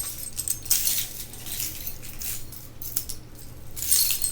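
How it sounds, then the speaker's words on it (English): Keys jangle in bursts as a set is unhooked from a backpack and handed over, bright metallic clinks coming and going close by with no talk. "Would you be kind enough to hand me my keys off my backpack?"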